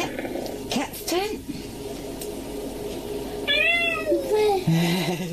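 A switch-accessible cat toy gives out a few short electronic meows, moderately loud, between an adult's talk and other toy sounds.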